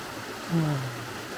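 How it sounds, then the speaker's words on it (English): A waterfall in Wales rushes steadily as a continuous broadband wash of water. A brief tonal sound rises above it partway through. "Back to the waterfall."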